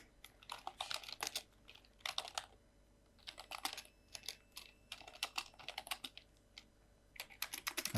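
Router configuration commands are typed on a computer keyboard in quick bursts of close, crisp key clicks separated by brief pauses, with no voices.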